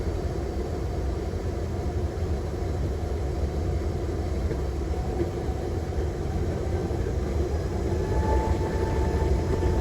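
A jet airliner takes off from Surabaya in rain and thunder, its engines a steady, loud roar with broadband rumble that swells slightly toward the end, no voices over it.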